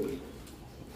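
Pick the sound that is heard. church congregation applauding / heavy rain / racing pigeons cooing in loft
racing pigeons cooing in loft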